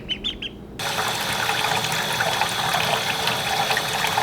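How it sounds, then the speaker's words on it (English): Water starts pouring and splashing near young ducklings after a few of their high peeps, then runs steadily as a loud, continuous rushing splash. "Ooh, water."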